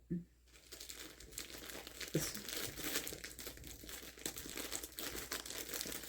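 A plastic craft pack is torn open by hand, producing a continuous close crinkling and crumpling with a sharp rip partway through, while a voice talks quietly underneath.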